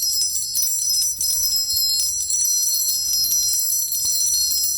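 Small bells ring with a bright, sustained shimmering jingle, layered tones overlapping continuously, close and clear with no talking.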